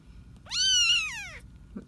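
A kitten lets out a single loud, drawn-out meow close by, rising then falling in pitch, with faint background sounds and a soft knock just after.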